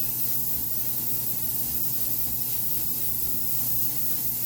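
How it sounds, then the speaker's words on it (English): Lighter fluid hisses from a spray nozzle in a steady, continuous close-up stream, coated lightly over a plastic part of a 1/72 scale Sinanju model kit, with no pauses and no voices. "And we're going to spray the whole part. I'm just going to do real light at first."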